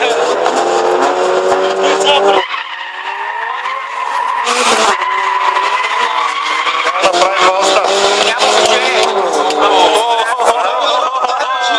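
Race cars at a drag race start on a strip in Bozhurishte, one false-starting in the left lane, with loud close engines roaring and rising in pitch and tires squealing and skidding continuously, dense and sustained throughout.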